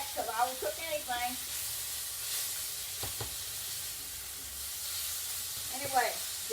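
Chicken liver frying in a pan, with a steady sizzle running throughout and a few brief clinks and scrapes near the start and end.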